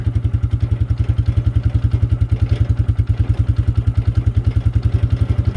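Carbureted ATV engine on full choke after priming, chugging in a fast, even, heavy rhythm up close, loud and steady with no talk.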